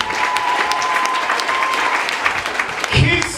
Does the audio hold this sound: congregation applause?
yes